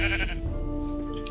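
Sheep in Minecraft bleat once or twice near and clear over a soft tonal game music backdrop, with no talking.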